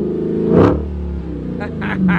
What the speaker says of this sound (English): We always gotta get some exhaust revs